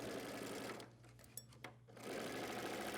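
Sewing machine running steadily while stitching darts on a pair of pants, pausing briefly in the middle before resuming its fast, even hum, close and loud.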